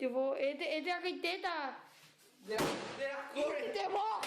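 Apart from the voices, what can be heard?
door slamming shut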